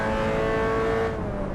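A race car engine in a driving video game, a loud sustained whine with a steady pitch that drops slightly near the end as the gear changes down.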